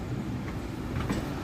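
The Mumbai LTT Shalimar Express, train 18029, runs along the rails at night between stations, making a steady, close rumbling roll with faint wheel clacks.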